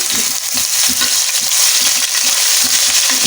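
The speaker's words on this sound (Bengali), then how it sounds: "তেলটা গরম হয়ে গেছে বন্ধুরা, এর মধ্যে দিয়ে দেবো কিছু কালো জিরা ফোড়ন, দিয়ে নেব কিছু সাদা জিরা ফোড়ন" Nigella and cumin seeds crackle and sizzle loudly in hot oil, a dense steady hiss with light rhythmic clicks from stirring in the pan.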